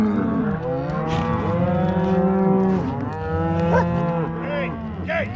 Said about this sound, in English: Hey, cows, hey, cows